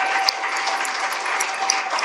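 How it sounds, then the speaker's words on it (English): Applause from the audience at a Richmond City Council meeting, a dense, fairly loud and bright wash of clapping holding steady for about two seconds with occasional sharper individual claps. "If we can have one more big round of applause"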